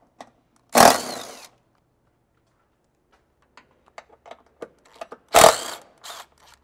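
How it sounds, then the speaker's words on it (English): Two short bursts of a ratcheting socket wrench, 13 mm socket, loosening vertical bolts from the factory rails on a Jeep Gladiator Rubicon, each burst loud and close, with faint scattered clicks and taps between them. "We like to start by removing the vertical bolts."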